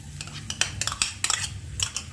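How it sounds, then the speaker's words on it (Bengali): A metal spoon scrapes and clinks against a pan while mixing sour yogurt into a spice masala over a low flame, giving irregular close, bright taps and scrapes with no talking. "ভালো করে মিশিয়ে দিচ্ছি আমি।"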